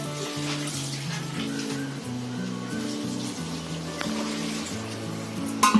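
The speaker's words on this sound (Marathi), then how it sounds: "याच्यामध्ये पाणी सोडायचं आणि शिजवायला लावायचं" Water pours from a tambya pot into a pan of veg pulao, a steady running gush that goes on for several seconds, with a louder splash near the end.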